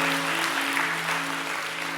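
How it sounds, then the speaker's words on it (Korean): A congregation at a Korean Presbyterian Sunday evening service breaks into loud, dense applause, a full wall of clapping over a steady sustained musical tone, with no speech. "박수를 쳐야 돼요"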